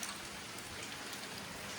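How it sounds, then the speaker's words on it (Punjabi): Soft, even patter of rain falling steadily, faint and uninterrupted with no other sounds. "ਹੁਣ ਤਾਂ ਘਟ ਗਿਆ ਮੀਂਹ ਵੀ"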